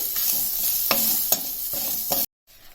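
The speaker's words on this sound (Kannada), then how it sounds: "ತುರಿದಿಟ್ಟ ಕಾಯಿ ತುರಿನ ಫ್ರೈ ಮಾಡ್ಕೊಳ್ಳಿ" Grated coconut frying in a pan, a steady dry sizzle with several stirring scrapes at regular intervals, close and alone, ending abruptly.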